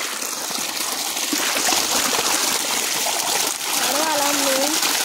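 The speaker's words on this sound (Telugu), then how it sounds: "ఇప్పుడు నేనైతే నీళ్ళైతే ముంచుతున్నా" Water being scooped by hand in a lemon orchard field, giving a steady wash of splashing and trickling throughout with a faint voice in the background.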